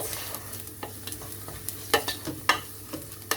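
Onions and spices, chili powder among them, being mixed in a pan as the base for a chickpea and egg curry: gentle frying hiss under irregular stirring scrapes and a few sharper clacks of utensil on pan, close-up, no talking.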